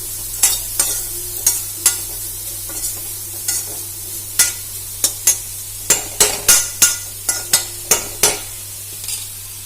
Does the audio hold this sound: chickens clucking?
no